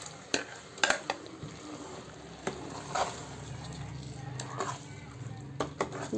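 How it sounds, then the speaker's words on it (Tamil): Ground masala being stirred into mutton curry in a pot, village-style mutton kulambu, with intermittent scraping and clinking of a spoon against metal and soft sizzling, a voice talking over it. "நல்லா மிக்ஸ் பண்ணுங்கள்."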